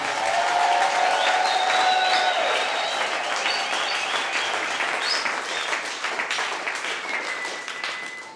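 A church congregation applauds together during a worship service, a dense, sustained wash of clapping that holds steady for several seconds and then gradually thins out, with some faint background voices.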